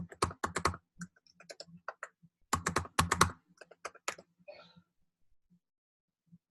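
Password keys tapped on a computer keyboard, a close run of crisp keystrokes in two quick bursts with short pauses, then a few scattered lighter taps fading out.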